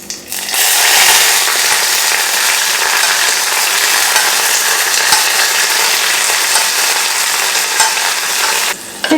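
Grated beetroot tipped into a hot pan with curry leaves for Kerala beetroot pachadi, frying with a loud, steady sizzle and light stirring scrapes that hold evenly for several seconds before cutting out near the end.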